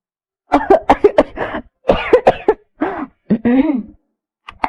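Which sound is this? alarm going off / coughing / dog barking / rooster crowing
coughing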